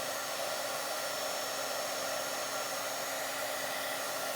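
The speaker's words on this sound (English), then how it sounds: "Heating tools," A heat tool blows hot air onto a journal cover being worked on, a loud, steady whooshing roar that runs unbroken from start to finish with no talking.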